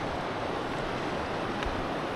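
The Colca River in Peru's Colca Canyon rushes in a steady, broadband roar, loud and close, with a constant wash of water and wind and no voices.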